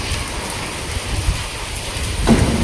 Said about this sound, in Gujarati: મસ્ત ઠંડો ઠંડો પવન છે અને હળવો હળવો વરસાદ આવે છે.